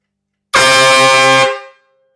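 A single loud air horn blast sounds for about a second, close and sustained at full strength, then cuts off with a short fading tail; no voices accompany it.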